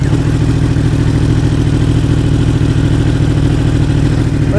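A Yamaha R1 crossplane sportbike idles close up, giving a loud, steady, lumpy low rumble with an even pulsing beat throughout.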